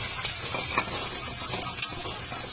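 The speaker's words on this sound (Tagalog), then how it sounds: "Bigisa na natin yung mga bawang at sibuyas" Garlic and onions sautéing in a pan over a wood fire in a rural outdoor kitchen, a continuous close sizzle and hiss with faint stirring scrapes, no voices.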